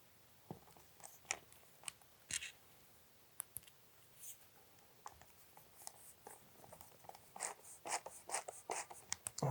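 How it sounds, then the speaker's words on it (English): Hand screwdriver driving screws into a bracket on an upper cabinet, faint scattered scraping and clicking ticks at close range, growing busier toward the end. "We line them up with the little holes and fasten them with a screwdriver."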